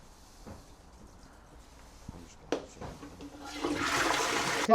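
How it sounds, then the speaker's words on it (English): A toilet flushes nearby: after a few quiet clicks and knocks, a loud rush of water swells and keeps gushing to the end. "Let me flush it again"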